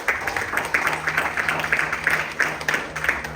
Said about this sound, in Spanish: ¿Por qué no les damos un fuerte aplauso a nuestro Dios?